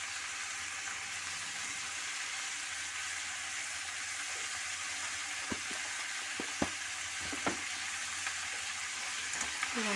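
Goat tripe (boti) fries in a pan with chili powder and salt, a steady close sizzle running throughout with a few sharp spatters and stirring knocks near the end.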